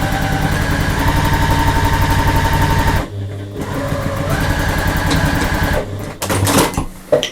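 Sewing machine stitching across a woven pouch, a loud close rapid mechanical chatter in two runs separated by a short pause, ending with a few clicks and handling noises.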